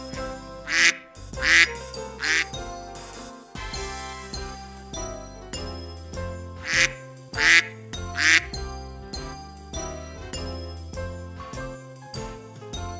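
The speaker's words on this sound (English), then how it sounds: "Mallard." A mallard duck quacks several times in short, bright bursts, arriving in two groups of three over a lively, jingly children's music backing track.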